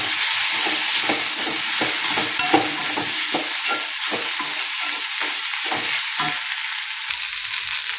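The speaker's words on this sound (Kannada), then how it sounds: "ಈಗ ಮೆತ್ತಗಾಗಿದ್ರೆ ಟಮಾಟೆ ಬೆಂಡೆಕಾಯಿ ಹಾಕ್ತೀನಿ ನೋಡಿರಿ, ಹೊರ್ಕೊಂಡಿದ್ದು. ಇದನ್ನು ಚೆಂದಾಗಿ ಮಿಕ್ಸ್ ಮಾಡ್ಕೊತೀನಿ" Okra and tomato sizzle in a hot frying pan while being stirred, a steady frying hiss broken by regular scraping strokes of the spoon about once or twice a second, close and fairly loud with no talking.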